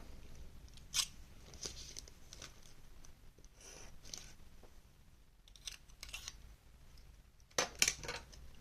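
Scissors are handled nearby: scattered metallic clicks and snips, a few sharper at the end, with soft rustling between.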